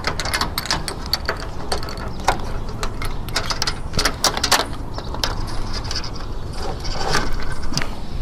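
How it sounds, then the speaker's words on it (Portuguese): Bolts are fitted into the aluminium frame of a solar panel: a string of sharp metallic clicks and small clanks, close by and irregular, over a steady background hum. "Vou botar já o segundo parafuso, depois eu venho apertando."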